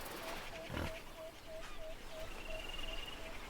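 Pig in the video game Under a New Sun, heard as a faint, rhythmic series of short grunting tones repeating steadily over a soft ambient game backdrop with brief rustling noise.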